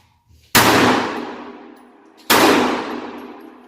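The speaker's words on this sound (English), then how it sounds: "It went bang" Two loud, close gunshots from a Ruger LCP2 pistol firing 1964 ammunition, each a sharp crack with a long ringing decay, spaced nearly two seconds apart on a range.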